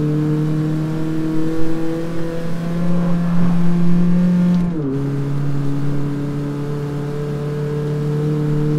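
A car in the CarX Street racing game launches hard, its engine note climbing loudly, then dropping sharply at a gear change before pulling up again, close and alone without talk.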